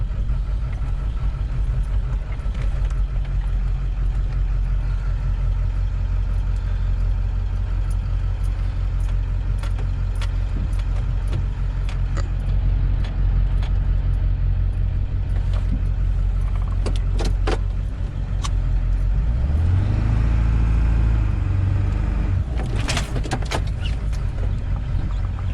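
Truck in low gear creeping along the tight, winding Fayette Station Road in the New River Gorge, West Virginia, its engine droning steadily, with light rattles and clicks and a revving surge near the end.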